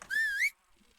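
A single whistle blown in the Medieval Dynasty medieval life game, one clear rising and falling tone lasting about half a second, loud and alone, followed by quiet.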